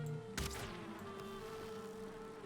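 Insect buzzing from bees in the video game Valheim, a continuous close droning hum with a sharp hit near the start and no talk.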